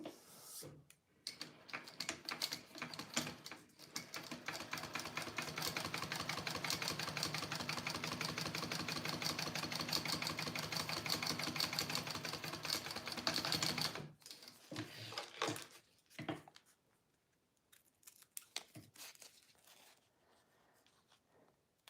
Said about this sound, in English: Okay, sew this on.